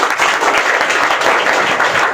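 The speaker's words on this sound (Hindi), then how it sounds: "ताली बजाना।" Audience applause at a network marketing training event, loud and dense clapping from a large crowd held steady and unbroken throughout.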